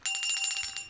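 A small metal bell rings in a rapid, shimmering series of strikes, bright and fairly close, sustained for under a second with no talking.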